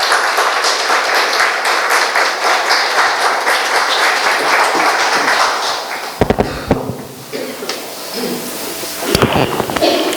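Women in an audience clap in tribute to the fathers at a Father's Day homage, a dense steady round of applause that thins out partway through, leaving scattered claps and a few louder isolated hits near the end.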